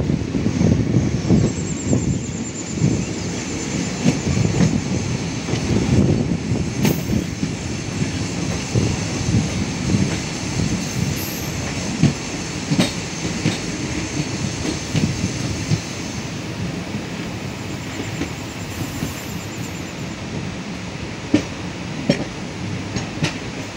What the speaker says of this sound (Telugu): మనము ఖుర్దా రోడ్ అవుటర్లో ఉన్నాం కాబట్టి మన ట్రైన్ చాలా స్లో అయిపోయింది.